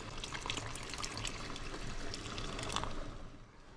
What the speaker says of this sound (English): take those 2 cups of starch water and put